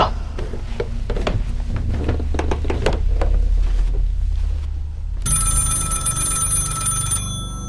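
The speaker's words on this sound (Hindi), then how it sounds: "एक दिन पुलिस को उस विधवा का फोन आया।" Telephone ringing in a Hindi horror story, a steady electronic ring with strong harmonic tones starting partway through and continuing loud for about two seconds, following a muffled stretch of knocks and clatter.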